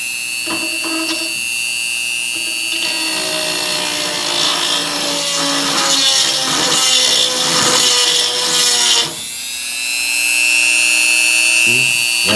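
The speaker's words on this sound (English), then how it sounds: "we're going to use the Dremel tool" Inexpensive Dremel rotary tool whines at a high, steady pitch while rounding off holes and deburring parts for homemade climbing aiders, grinding loudly with slight pitch shifts under light pressure, then easing toward the end.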